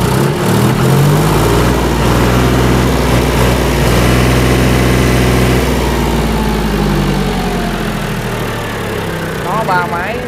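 A loud, close three-cylinder John Deere 5310 tractor engine chugs with a deep throbbing tone, revving up briefly and then settling back, with a voice talking over it.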